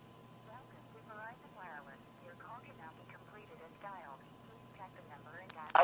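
A telephone switch plays a recorded announcement for an invalid dialed number: a narrow, tinny voice over a steady line hum, ending in a short click.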